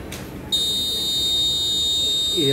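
A sensor device's alarm buzzer, triggered by high humidity, switches on abruptly and holds a shrill, unbroken electronic tone, loud and close, over faint background noise.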